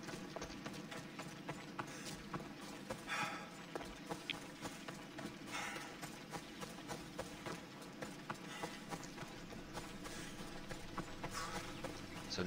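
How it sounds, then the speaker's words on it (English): Horse hooves clip-clop steadily and continuously in Assassin's Creed Odyssey, a brisk galloping rhythm running throughout under game ambience. "Can I have my horse back yet?"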